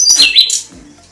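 A pet songbird gives a few quick, loud, close chirps and whistled notes within about a second, then falls quiet.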